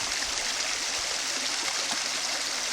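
A bilge pump used at a gold-prospecting site pushes out water in a steady, rushing gush, close by and without interruption.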